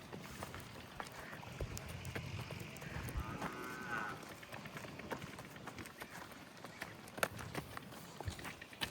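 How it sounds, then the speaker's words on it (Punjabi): A Friesian-type dairy cow for sale at a Punjab farm moos at low volume against a busy outdoor background of clatter and shuffling. One drawn-out call rises near the middle. "ਘਰ ਦੀ ਭਲੀ ਗਾਂ ਹੈ।"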